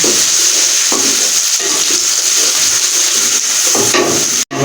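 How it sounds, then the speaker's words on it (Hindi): Garlic and ginger paste frying with golden-brown onions in a pan for a dhaba-style chana dal, a steady close sizzle with occasional scraping stirs throughout. "अभी हम इसमें लहसुन और अदरक का पेस्ट ऐड करेंगे। इसको मामूली इसमें फ्राई करेंगे।"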